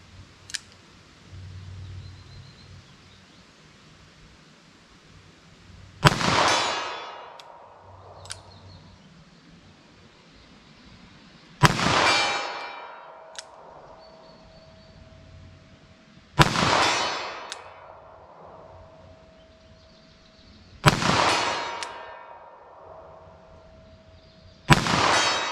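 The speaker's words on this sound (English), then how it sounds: "So I'm gonna shoot these single action, try to hit the target." Four loud, sharp 10mm Auto shots from a revolver fired single action, spaced roughly five seconds apart, each a sudden crack with a ringing decay and quiet outdoor background between them.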